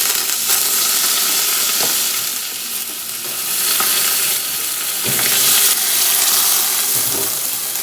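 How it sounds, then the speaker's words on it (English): Butter sizzles loudly and steadily in a hot pan, a dense, unbroken crackle with slight swells and a few faint knocks, and no talking. "Now here the pan is hot. I'm going to put some butter."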